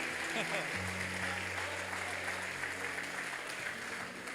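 Applause from a church congregation during a Portuguese-language worship service, a broad wash of clapping running steadily throughout while a voice speaks over it.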